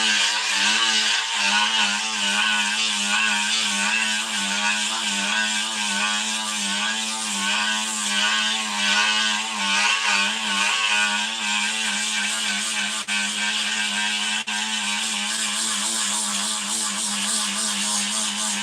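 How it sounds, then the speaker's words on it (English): A grinder fitted with a 36-grit disc sanding a stock vinyl car dash, a loud, steady, close whine with a constant pitch that runs without a break throughout. "let's see what happens if we hit this with a grinder"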